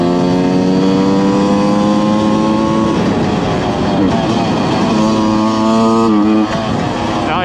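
A Beta RR 125 Racing two-stroke motorcycle engine revs up and holds, then drops and revs again, failing to take full throttle; a loud, close, continuous buzzing whine throughout.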